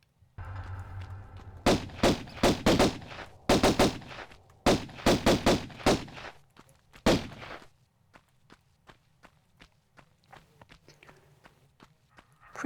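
Bursts of gunfire in a 1990s PC video game, fired at bats: sharp, loud shots in quick clusters, some rapid runs of three or four, followed by quieter scattered clicks and taps.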